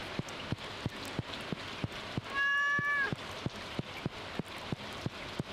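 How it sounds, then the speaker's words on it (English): Cat meowing in the farming video game Stardew Valley, a single short clear meow set against a steady pattering of rain and regular soft ticks, moderately quiet and alone. "Oh, kitty."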